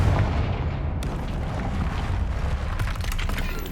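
A Confringo fire spell from the video game Hogwarts Legacy bursts with a sharp crack near the one-second mark, riding over a continuous rumbling, booming low roar that fills the short stretch.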